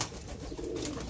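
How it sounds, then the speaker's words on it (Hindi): A pigeon coos in a low, rolling burr, one short continuous phrase heard close up without any voices. "देखें कबूतर"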